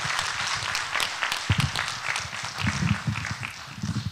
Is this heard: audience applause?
yes